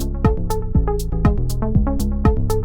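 Electronic music project playing in Imaginando LK, a steady beat of punchy kicks with pitch-dropping tails, bright hi-hat or clap hits on offbeats, and sustained synth tones, loud and continuous with no voices.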